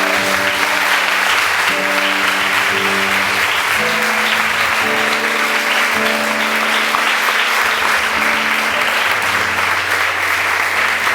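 A church congregation claps loudly and continuously, a dense wash of applause over sustained organ or keyboard chords, with no voices rising above it.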